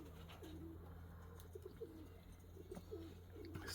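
Pigeons cooing outdoors in spring, soft low repeated coos at moderate distance over a quiet steady background hum.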